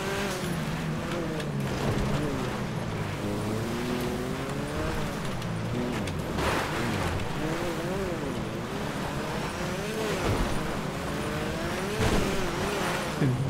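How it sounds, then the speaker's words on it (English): Kia Stinger engine in a racing video game climbing Mount Chiliad, revving hard and bouncing off the rev limiter in wavering, stuttering pitch sweeps, loud and continuous with game ambience. "A little rev limiter action here."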